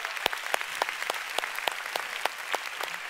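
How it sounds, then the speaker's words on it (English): A church congregation applauds steadily, with regular sharp claps from nearby hands standing out over a dense, even wash of crowd clapping. "Can we give the Lord a big hand?"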